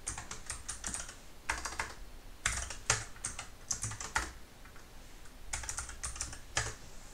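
Rapid keystrokes on a computer keyboard as code is typed, coming in bursts of clicks and clacks with short pauses between, close and clear with no talking.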